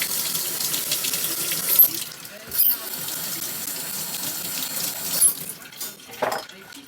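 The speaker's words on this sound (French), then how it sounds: "On va rincer notre appareil." Water runs and splashes while winemaking equipment is rinsed at a wine-making shop, a steady close wash of flow with a few brief clinks and bursts.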